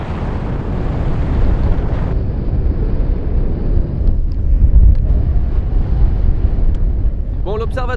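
Strong cold wind buffets the microphone near an observatory in Fukushima, a loud continuous low rumble with gusting surges, and a voice speaks briefly at the end.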